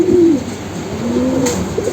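A young Army pigeon with all-white feathers and a red neck patch, chick of a male bird, gives a low, rolling coo at close range, most prominent early on, with soft rustling and no speech.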